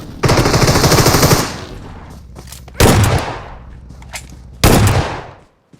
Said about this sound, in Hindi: उसके बावजूद ये बंदा मेरे पे शॉट्स देता है